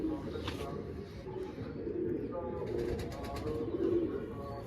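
Low, soft cooing of pigeons repeating over steady background noise, fairly close, with a few faint chirps; no clear speech.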